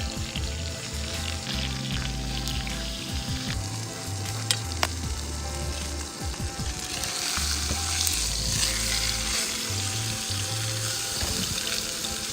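Garlic-powdered food sizzles and fries steadily in a small pan at a campsite cookout, a continuous close crackle with occasional stirring clatter and faint water sounds, no talking.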